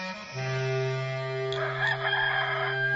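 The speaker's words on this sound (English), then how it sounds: "Immediately a rooster crowed" A rooster crows once in a long, sustained call with a strained, wavering end, heard close and loud.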